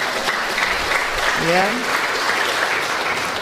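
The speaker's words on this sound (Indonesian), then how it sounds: "tepuk tangan dong saudara" A church congregation applauds the choir, a steady broad clapping that fills the room, while a pastor speaks briefly over it.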